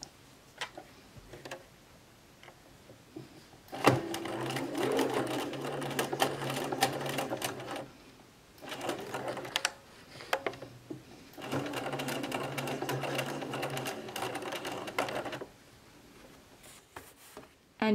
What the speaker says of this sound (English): So I'm now ready to sew the elastic in place.